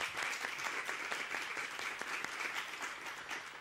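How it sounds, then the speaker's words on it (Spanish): Steady studio audience applause on a Spanish television game show, a dense wash of many hands clapping throughout, moderately loud and even with no talk over it. "Y volvemos de nuevo a brindarle otro aplauso antes de pasar a otra cosa."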